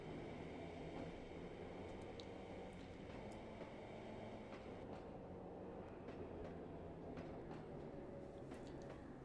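A train driven in Trainz Simulator 2 on an evening route keeps up a continuous rumbling run, a steady broad roar with faint metallic squeals and clicks over it.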